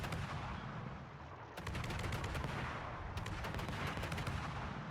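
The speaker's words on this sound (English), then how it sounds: "you can just see the devastating volume of shells that this ship can put out as the Lepanto melts" Warship guns in a naval video game pour out a dense, continuous barrage of shell fire, rapid overlapping blasts forming a loud roar with two sharp surges of fresh volleys.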